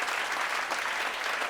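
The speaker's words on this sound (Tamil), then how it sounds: "அவர்களுக்கு கரகோஷம்." Audience applause at a Tamil pattimandram debate stage event in Madurai, a steady dense wash of clapping from a large crowd, loud and continuous with no speech over it.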